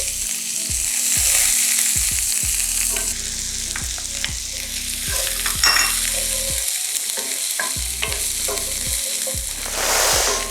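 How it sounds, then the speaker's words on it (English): Chopped onion drops into hot, smoking coconut oil for a coconut curry and fries with a loud, steady sizzle, broken by repeated scraping strokes of stirring. The sound is close up, with no talking. "It's coconut oil. And in goes the onion."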